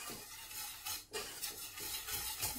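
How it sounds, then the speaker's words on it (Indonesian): Chicken breast seasoned with salt and pepper is stirred in a pan, giving soft repeated scraping strokes over a faint sizzle, quiet and close, with no talking. "Habis dikasih garam dikasih merica. Nah jadi ini diaduk rata."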